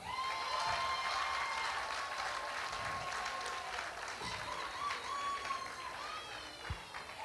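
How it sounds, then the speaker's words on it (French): Applause and cheering from a concert crowd at a church gospel event, steady dense clapping with a held shout or whistle on top, loud throughout and fading slightly near the end. "Applaudissez d'abord pour le Seigneur"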